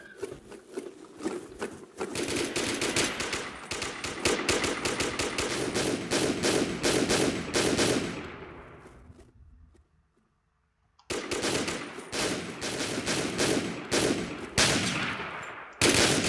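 Rapid automatic gunfire in the online shooter Warmode, dense bursts of shots running loud and near for about eight seconds, a short silence, then another long burst of rapid fire.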